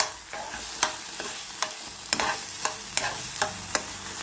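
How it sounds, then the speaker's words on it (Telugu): A spoon stirs bottle gourd halwa in a pan over a low flame, sharp scraping strokes about every half second over a soft, steady sizzle. "కానీ ఓపికగా సిమ్లోనే కలుపుతుండాలి"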